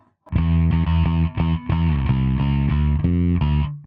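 A Lakland 4401 bass guitar plays a short run of notes through high-band drive distortion, a gritty, overdriven edge on top while the low end stays round and full.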